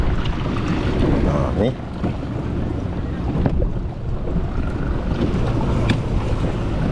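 Wind roars steadily across a fishing boat at sea on a trip after jenahak, loud buffeting microphone rumble with water wash throughout, and someone speaks briefly over it.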